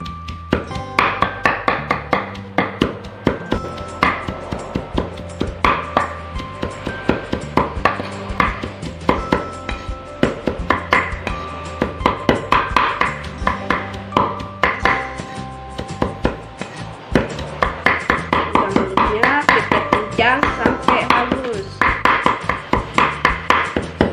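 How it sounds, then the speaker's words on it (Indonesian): Knife chopping shrimp finely on a cutting board, a fast steady run of sharp taps that lasts throughout at close range, with no talking. "sekarang udang halus kita cincang ya guys. Cincang sampai halus."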